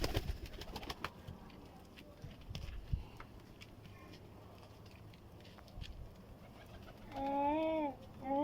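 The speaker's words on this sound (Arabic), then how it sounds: "هاي الطير طبعا" Pigeons on a rooftop: scattered knocks, shuffles and faint bumps come first, then a pigeon's rolling, warbling coo rises clearly near the end.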